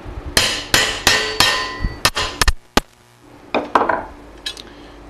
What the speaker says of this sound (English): we're just going to poke our tool down through here and set it in, and we're just going to drive this home.